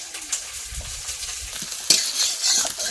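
Round-sliced onion and green chillies frying in oil in a rural home kitchen, a close sizzle with light stirring and utensil clatter that swells louder partway through, no voices.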